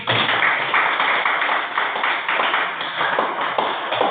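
Children clap their hands together in a classroom, a loud, steady run of fast claps that continues without a break from start to finish.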